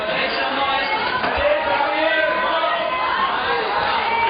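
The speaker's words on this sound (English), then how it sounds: "The crowd are egging her on as well." Spectators at a women's bouldering World Cup qualification in Vienna cheer and shout encouragement to a climber, a continuous roar of crowd noise with a commentator talking over it.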